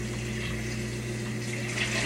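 Water running into a hot cooking pot as it is rinsed out after cooking pork chops, a steady broadband rush with a low pump-like hum underneath, continuous and close, with no voices.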